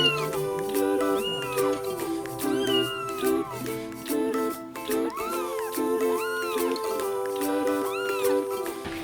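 Abandoned kittens meow repeatedly in high, rising-and-falling cries over a steady tonal musical backdrop, several calls spread across the clip.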